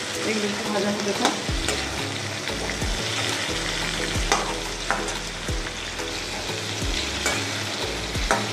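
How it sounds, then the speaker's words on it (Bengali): Onions sizzle steadily in a pan of hot oil after a spoon of salt, with occasional stirring scrapes over the continuous fry, close and fairly loud, no talking. "এগুলো একটু ভাজা হতে থাক।"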